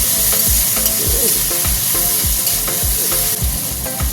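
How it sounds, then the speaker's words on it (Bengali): Loud sizzling in a pan with rhythmic scraping and tapping of a utensil as fried rohu fish is broken up, repeated strokes at a steady pace. "এবার আমি এই যে সবগুলো দিয়ে আর মাছগুলো ভেঙে দেবো"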